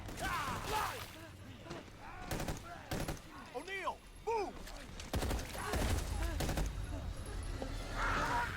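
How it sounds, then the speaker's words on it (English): Bursts of rapid gunfire crackle repeatedly over a steady background in the video game The Evil Within 2 demo, with a person talking in between the volleys. "Got gunshots."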